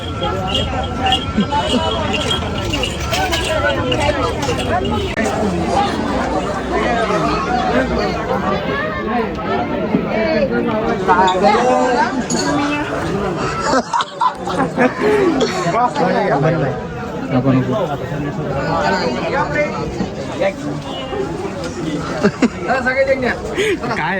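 Dense crowd hubbub fills a packed temple pilgrimage site at Shri Kshetra Veer, a steady loud wash of many overlapping voices with a brief dip midway and nearby talk throughout.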